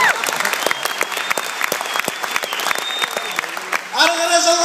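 A large audience at a Kazakh comedy contest show in Taraz fills the hall with sustained applause, crackling and dense. Near the end a voice and music cut in over the clapping.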